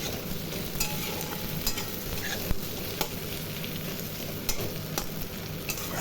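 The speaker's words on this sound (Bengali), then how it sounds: "এবারে গরম মশলার সাথে পেঁয়াজগুলো খুব ভালো করে আমি ভেজে নেব।" Sliced onions fry with whole garam masala in hot oil, giving a steady, dense sizzle with occasional sharp scrapes and clicks of a spoon stirring through the pan.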